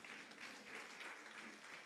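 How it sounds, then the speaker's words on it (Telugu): An audience claps steadily and continuously at a regional pastors' meeting of a national Christian board, a dense wash of applause heard from within the hall at moderate distance. "నమ్మిన వారు గట్టిగా చప్పట్లు కొట్టండి."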